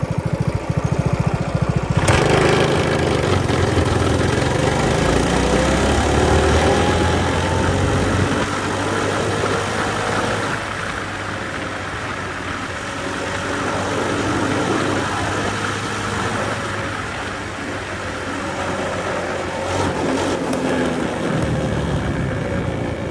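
A budget mini bike with a billet flywheel makes a speed run, its small single-cylinder engine buzzing loudly and rising in pitch as it accelerates, with wind rush, then easing off toward the end.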